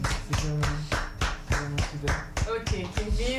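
An audience claps in a steady, even rhythm of sharp, close hand claps lasting several seconds, with voices mixed faintly underneath.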